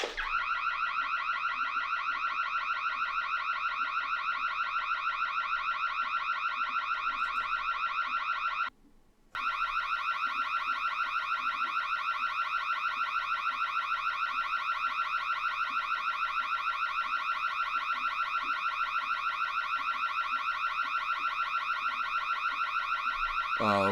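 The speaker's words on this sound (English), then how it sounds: "So it's going to go off until he comes to shut it off. I'm not listening to the whole alarm." An alarm blares continuously with steady, strongly harmonic tones, loud and unbroken apart from one brief dropout, with no talking over it.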